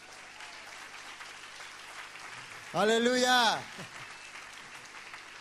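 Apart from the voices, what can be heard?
congregation applauding in church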